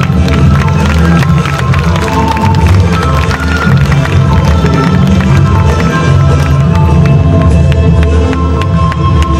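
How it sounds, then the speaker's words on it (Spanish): Crowd at a binational queen pageant cheering and clapping loudly for a Tumbes dance performance, a dense continuous roar of applause and shouts over music throughout. "Acompañémoslo con vuestros aplausos"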